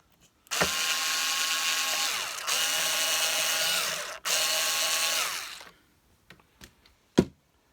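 A power driver runs screws into the housing of an Electrolux Turbo 2 vacuum during reassembly, whining loudly in three close bursts, then a few light clicks and knocks follow.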